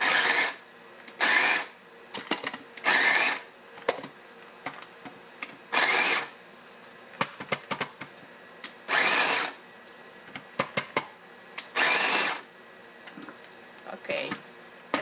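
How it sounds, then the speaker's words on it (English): Electric vegetable chopper processing jalapenos whirs in loud, short repeated bursts of a second or so, separated by pauses filled with clicks and handling noise. "and put it in my vegetable chopper,"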